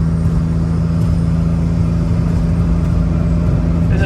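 A 1971 Datsun 510 fitted with an SR20DET engine cruises down a rough road, a steady low engine drone and road rumble filling the cabin at a constant, fairly loud level with no talk.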